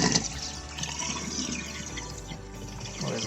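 Water drains from a newly installed laundry tub with a steady gurgling rush and scattered drips, fairly close and continuous for the whole stretch, with no talking.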